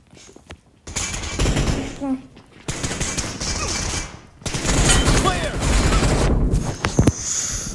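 Gunfire in the PUBG video game comes in bursts of rapid automatic shots and fusillades, loud and close, separated by short pauses.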